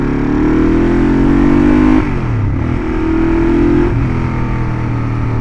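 A 1971 Honda CL450 motorcycle engine idles steadily after starting, loud and close, with a brief dip and rise in revs midway before settling back into a constant throbbing drone.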